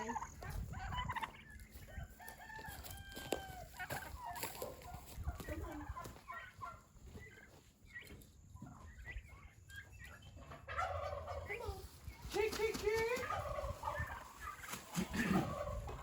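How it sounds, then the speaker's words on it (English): Turkeys gobble repeatedly in bursts, close and fairly loud, with clucking fowl and faint voices in the background. "there's another little gobbler"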